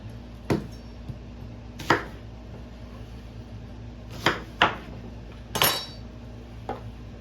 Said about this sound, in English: so the onion I'm going to cut up about like that.